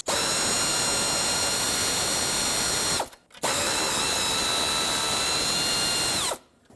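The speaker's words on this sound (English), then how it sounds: "Use an 8mm socket and remove both of the retaining bolts." A power tool driving an 8mm socket whirs loudly to back out retaining bolts on a power steering fluid reservoir of a 2008-2010 Ford F-250 6.4L diesel, in two long bursts separated by a brief pause.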